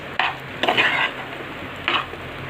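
Palak lemon rice being mixed in a single pot, a few quick scraping strokes of a spoon against the metal over a faint background hiss, close up with no voices.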